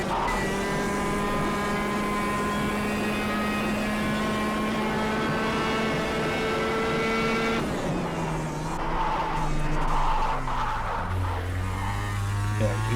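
A go-kart in KartKraft drones at a steady high pitch, then the engine drops and the kart skids off the track, with scrubbing tire noise and a falling engine note, loud and close, without talking.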